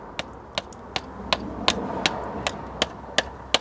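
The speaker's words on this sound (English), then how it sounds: "Oh, I get to do the hammering again." Sharp metallic hammer blows strike a Toyota MR2 at a steady pace, about ten evenly spaced hits over quiet background noise.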